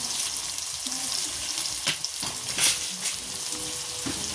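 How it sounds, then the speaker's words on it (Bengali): Steady oily sizzling of papad frying in oil, broadband hiss throughout with a few sharper crackles and pops, close and moderately loud, no voices. "এই যে আমার পাঁপড় ভাজা হয়ে গেছে"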